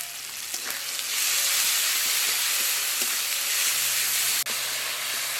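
Ginger-garlic paste fries with softened tomatoes in a pan, giving a loud, steady broadband sizzle and hiss that holds evenly throughout, with a brief dip near the end.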